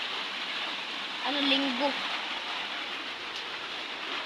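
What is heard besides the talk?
rain falling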